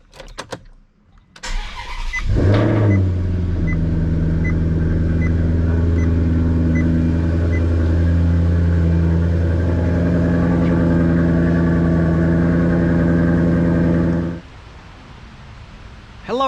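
A Maserati GranTurismo fires up with a sharp starter whir and a loud bark, then settles into a steady, deep, even idle for about twelve seconds before it shuts off abruptly.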